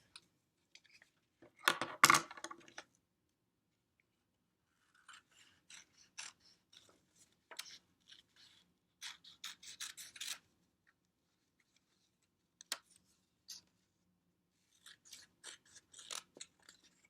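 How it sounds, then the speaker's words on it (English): Scissors snip through folded black paper while a tree shape is cut out, a sparse series of short, crisp cuts and small rustles, with one louder crunch early and long quiet gaps between. "I am going to cut it folded in half."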